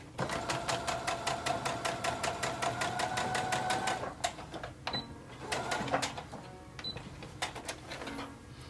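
A sewing machine runs a fast, steady stitch in the ditch of a shoulder seam to tack down the facing on a woven dolman-style dress. The even mechanical whirr stops, then returns in shorter, quieter bursts with no talking.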